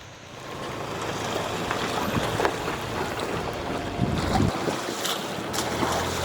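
Water of a forest stream flowing down from the hills, a steady broadband rush heard close and fairly loud throughout, with wind buffeting the microphone and no talk.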